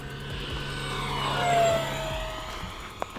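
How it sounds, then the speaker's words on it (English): Arrows BAE Hawk RC jet on a 3S battery making a full-throttle pass, its electric ducted-fan whine rising as it approaches, peaking overhead with a Doppler pitch drop, then fading as it flies away. "Abby, I'm going to do a full throttle pass."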